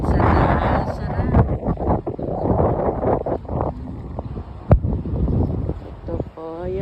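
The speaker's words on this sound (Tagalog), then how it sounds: "Mahangin sa taas." Wind gusting across a house rooftop in the city, a steady rushing buffet against the microphone with someone talking over it throughout.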